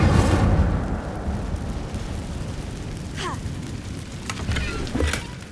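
A fire spell cast in the Hogwarts Legacy video game bursts with a loud whooshing roar, then settles into a sustained crackling burn, with a few sharp magical zings near the end.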